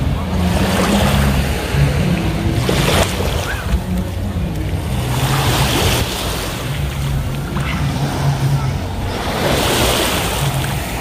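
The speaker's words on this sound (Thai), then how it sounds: "นั่งชิลๆอยู่ริมทะเลเลยนะคะได้ยินเสียงคลื่น" Sea waves wash steadily beside a seaside seafood restaurant in Sriracha, a loud, continuous surf with gusts of wind buffeting the microphone and swells rising and falling every few seconds.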